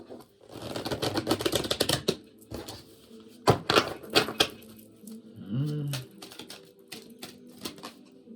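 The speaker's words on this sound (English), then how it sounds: "Give it one more shuffle, darling dears. One more shuffle." Rapid riffling bursts of cards being shuffled, several quick crackling runs separated by pauses, close by, with a brief voice murmuring between them.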